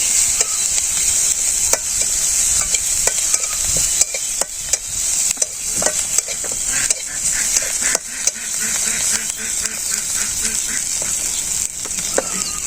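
Onions and chilies sauté for a tilapia fish curry in a village kitchen, giving a loud, continuous hiss of frying with repeated stirring knocks and scrapes running throughout.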